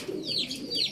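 Pigeons call repeatedly in the background, a mix of low coos and higher whistling notes, moderately close, at racing pigeon training lofts.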